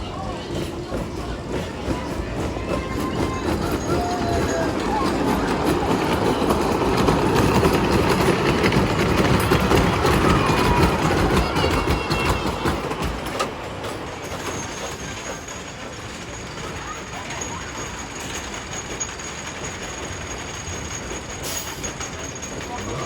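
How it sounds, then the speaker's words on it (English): Woodstock Express roller coaster at Carowinds runs with a loud, sustained rumble of wheels on track, rising to a peak midway and then easing to a lighter clatter, with occasional squeals near the end. "Enjoy your ride on the Woodstock Express."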